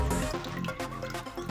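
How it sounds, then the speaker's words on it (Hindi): Water flows and drips into a Porta toilet flush tank, a close, uneven trickle with small splashy drips and gurgles, no talk. "पानी स्टार्ट फ्लोइंग अगेन"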